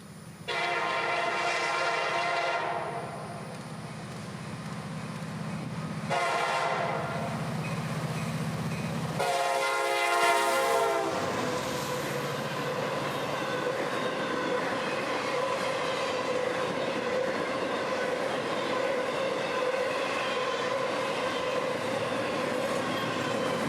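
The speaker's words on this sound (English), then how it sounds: "The peaceful quiet of the cooling summer night would be broken by the unmistakable horn of a CSX EMD locomotive" A CSX EMD diesel locomotive leading an intermodal train sounds its horn in several long blasts on a quiet summer night, followed by the sustained rumble and rolling clatter of the passing train.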